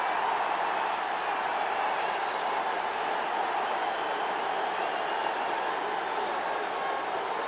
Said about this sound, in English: Much to the delight of the sellout crowd at Soldier Field.